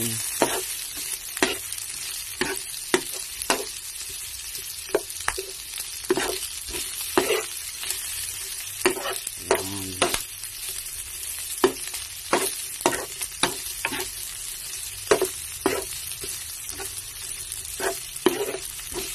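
Bean sprouts and glass noodles with vegetables frying in a pan, a steady soft sizzle punctuated by frequent quick clacks and scrapes of a spatula stirring, close, no talking.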